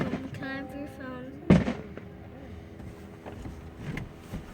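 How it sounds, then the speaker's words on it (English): One sharp firework bang cracks out over a fairground during a nighttime display, followed by fainter pops and rumbling in open air, with a brief voice beforehand. "Just watch the fireworks, honey."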